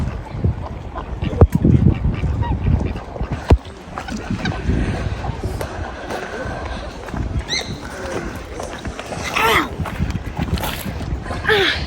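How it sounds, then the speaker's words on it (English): A pet duck calls outdoors near water, its quacks coming in a few short bursts partly buried under people talking nearby. "That's like a pet duck."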